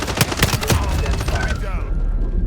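Heavy rapid gunfire in the Call of Duty MW4 multiplayer beta, loud close bursts of shots firing in quick succession before cutting off into a ringing tail.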